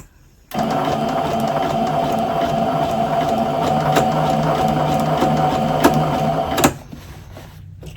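A sewing machine runs a zigzag stitch over dental floss, a loud, close, steady mechanical whir with regular clicks that starts abruptly, runs for about six seconds and then stops, with no speech.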